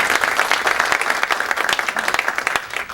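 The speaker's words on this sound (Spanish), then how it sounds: "quien también pide un fuerte aplauso" An audience at a hydropower seminar breaking into applause, many hands clapping in a dense, even patter that holds for the full few seconds before easing off slightly.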